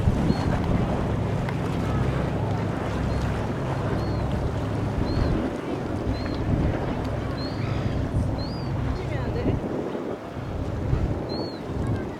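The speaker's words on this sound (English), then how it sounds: "the ships still come up and down the river" Boats moving on Sydney's river near Cockatoo Island, a steady low engine and water rumble with wind buffeting the microphone, a few faint distant chirps above, no talking.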